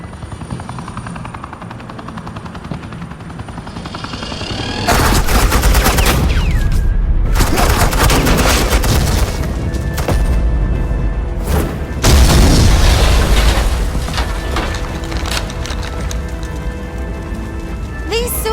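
Suppressing gunfire erupts in the Batman: The Enemy Within video game, loud dense bursts of rapid shots with booming impacts that start abruptly after a quieter opening and continue with brief pauses to the end.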